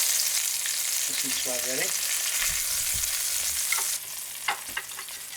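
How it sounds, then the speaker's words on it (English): Atlantic salmon sears in a hot pan with a steady, bright sizzle close by, a brief spoken remark near the start and a few utensil knocks toward the end. "So we've seared our wonderful Atlantic salmon"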